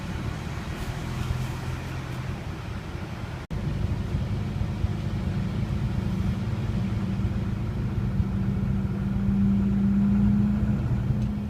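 An emptied tipper lorry pulls away after dumping its load, its engine a steady close rumble that builds slightly toward the end, with no talk over it.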